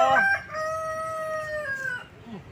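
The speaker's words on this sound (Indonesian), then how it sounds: "Ayam toh kukuruyuk toh" A rooster crows once, close and loud, its long drawn-out call rising and then trailing off.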